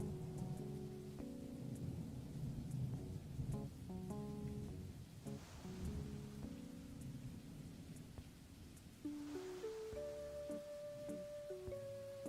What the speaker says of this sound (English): it's doing a rain effect